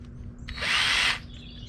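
Power drill with a bolted-on trimming attachment whirring up for about half a second in a workshop while shaping subwoofer rings, a loud steady high whine that stops abruptly over a low electrical hum.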